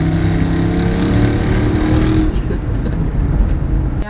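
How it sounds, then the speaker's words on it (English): A car engine drones loudly with a steady rumble, then fades as it moves past, followed by a sharp click at the very end. "Your camera pick up the sound of this car"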